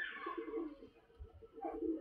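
Soft, low pigeon cooing comes in short, faint murmurs, quiet and close.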